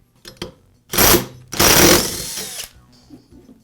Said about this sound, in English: I'm going to use an impact to remove the flywheel nut